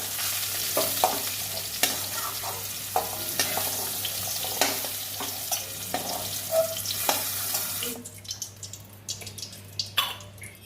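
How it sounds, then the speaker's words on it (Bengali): Steady sizzling of potatoes frying in oil with scattered pops and stirring scrapes; the hiss drops away near the end, leaving occasional clinks. "আলুটা ভেজে নিচ্ছি আলু ভাজা করে দিয়েছি"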